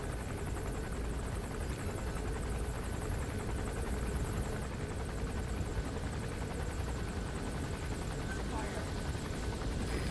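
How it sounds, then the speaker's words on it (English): Helicopter rotor drone from the Metal Gear video game, a steady continuous thrum holding at constant loudness throughout, with game ambience layered beneath. "That chopper is annoying as fuck."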